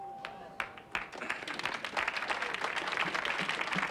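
A few scattered claps swell quickly into full studio audience applause on the game show Family Feud that grows louder and denser, with a voice briefly heard at the start.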